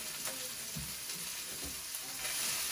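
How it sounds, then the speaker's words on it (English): Dry noodles and vegetables for spicy chow mein fry faintly in a wok, a soft low sizzle with a couple of quiet stirring scrapes. "we're just going to fan them out over the ingredients"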